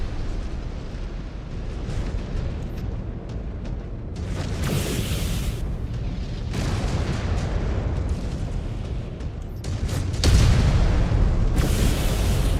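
Heavy booming explosions as a destroyed mech blows apart in the video game MechWarrior 5: Clans, rumbling continuously with loud bursts near the middle and a stronger blast toward the end.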